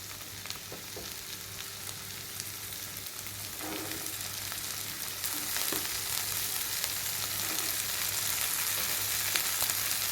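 Boiled, cut potatoes and peas stirred into a hot frying pan for a potato pal curry: a steady frying hiss with occasional soft spatula scrapes, growing slightly louder.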